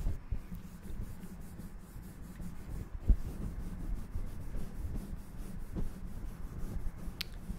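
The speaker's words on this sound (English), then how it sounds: "Now let me massage that. Just rubbing all that goodness." Hands rubbing oil into a scalp in a close, soft massage: continuous gentle scratchy rubbing and friction close to the microphone, steady and quiet, with one brief soft tap partway through.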